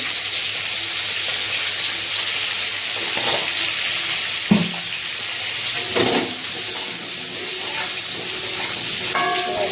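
Catla fish sizzling and frying steadily in a pan with turnip, a continuous close hiss broken by a few louder stirring scrapes and clinks.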